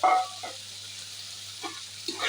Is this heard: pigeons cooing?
no